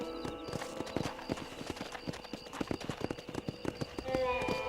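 Horse hooves clip-clop in the video game Red Dead Redemption, a steady run of close, crisp hoofbeats over a background music bed, ending in a brief tonal swell.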